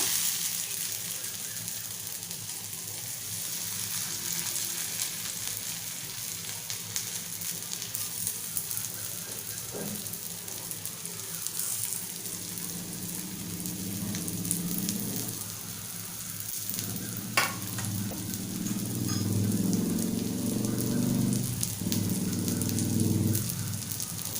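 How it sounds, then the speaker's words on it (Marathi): Raw banana slices deep-fry in hot oil with a steady, dense sizzle and crackle that runs unbroken throughout, loud and close, swelling slightly toward the end. "जी उरलेली काप आहेत ती आपण सोडूया आणि छान याच पद्धतीने फ्राय करून घेऊया"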